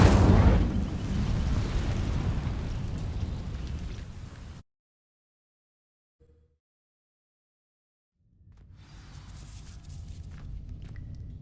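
Incendio fire spell cast in Hogwarts Legacy, a loud roaring burst of flame that fades into a few seconds of near silence before a lower rumbling swell of fire returns.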